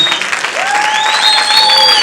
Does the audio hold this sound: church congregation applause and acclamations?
yes